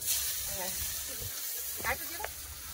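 Chopped onion hits hot oil with bay leaf and panch phoron, giving a soft steady hiss under a voice talking nearby.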